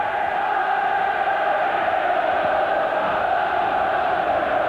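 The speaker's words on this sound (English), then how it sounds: "applause from the crowd for a good passing movement there by Blakburn Rovers" A football stadium crowd at a Blackburn Rovers against Sheffield Wednesday match applauding a passing move, a steady, dense roar of distant clapping and cheering with no break.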